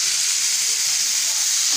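Pork frying in a pan until crispy, a steady close hiss and crackle of hot oil that stays even throughout.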